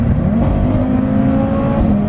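A tuned Audi RS3 making about 500 wheel horsepower launches hard under launch control, its engine note loud and close, a steady sustained roar with a rising pitch as it pulls.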